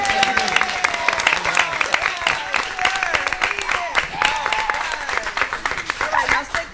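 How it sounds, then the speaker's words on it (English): Audience at a school board of education meeting claps together, a busy, chattering mix of hand claps with excited voices and cheers running throughout for several seconds. "Everybody, let's put your hands together and clap."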